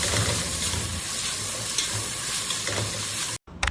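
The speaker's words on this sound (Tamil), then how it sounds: "நல்லா வதக்கி விட்டுக்கோங்க." Chopped tomatoes, green chilli and mint sauté loudly in a hot pan for prawn biryani, a continuous sizzle with occasional stirring scrapes that cuts off briefly near the end.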